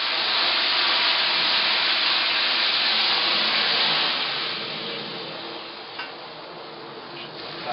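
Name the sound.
deglazing hot pan with red wine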